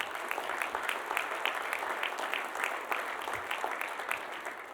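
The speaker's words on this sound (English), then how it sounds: "a round of applause for it." Applause from an audience at a charity spring breakfast, steady and fairly soft throughout, with many overlapping claps and no talk over it.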